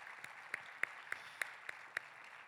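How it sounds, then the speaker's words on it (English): Faint, distant applause for JA laureates at a JA Empower event, thin and scattered with a few separate claps standing out over a soft steady wash of hands. "let's give them a round of applause, our JA laureates"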